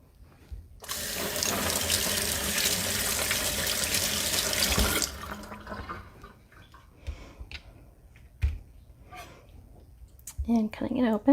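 Tap water runs into a sink while an avocado is rinsed, a steady rush for about four seconds before the flow stops, leaving scattered small clicks and handling knocks.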